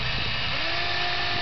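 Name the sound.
power drill driving screws into barn structure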